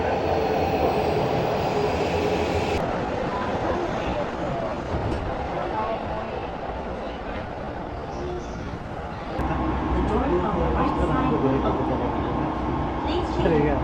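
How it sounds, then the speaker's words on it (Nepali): A train pulls into a station in Japan, a continuous loud rumble and rolling roar that holds throughout and shifts in tone partway, with people talking nearby. "ल हाम्रो चाहिँ अब ट्रेन आइसकेको छ।"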